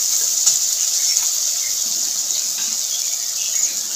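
Spice paste for a Bengali-style tilapia curry fries in oil with a steady, close, bright sizzle and fine crackle that holds evenly throughout, with no voices.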